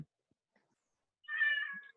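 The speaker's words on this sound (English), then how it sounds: "I'm sorry if you're hearing my cat go nuts outside my door." A pet cat meows loudly outside a closed door, one drawn-out insistent cry heard through the door after near silence, muffled but clear.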